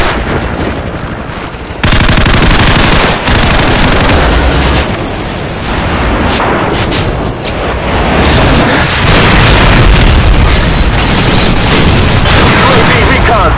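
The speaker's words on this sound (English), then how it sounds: "Friendly airstrike on the way!" Loud, continuous explosions and booming blasts from a friendly airstrike in a first-person shooter game, layered with rapid gunfire, with voices heard under the barrage.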